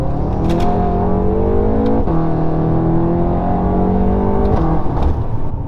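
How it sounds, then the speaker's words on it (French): A 700-horsepower BMW M5 engine revs and climbs through the gears, steady and loud, with a few faint pops and crackles from the exhaust between pulls. "On entend le petit crackle derrière."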